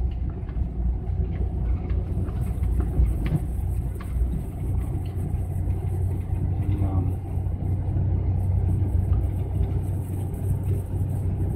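A GAZelle van rolls slowly downhill from a high mountain ridge, a steady low engine and road rumble heard from inside, with muffled voices underneath.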